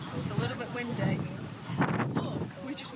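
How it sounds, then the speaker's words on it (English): Wind buffets an outdoor microphone in strong rumbling gusts while people walk and talk over it. "It's a little bit windy."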